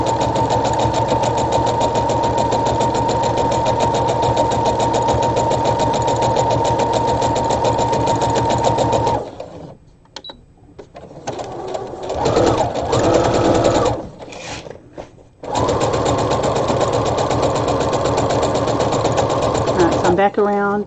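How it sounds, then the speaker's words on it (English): A sewing machine stitches a drawstring bag, running in a loud, fast, even mechanical whir, pausing briefly midway for a few seconds of handling, then resuming at full speed. "I'm stitching very close to that side"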